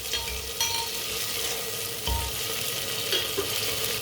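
Green chillies being mixed into mutton pulao in a hot pot, with a steady sizzle and a few soft scraping and stirring knocks.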